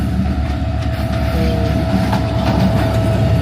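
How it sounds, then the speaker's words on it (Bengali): A Dhaka-bound train rolls past nearby, a loud, steady rumble with rhythmic clattering of wheels on the rails and a faint high tonal whine running through it. "একটা মজার বিষয় হচ্ছে যে ভিডিও করতে করতে মোটামুটি ট্রেনটাও চলে আসলো,"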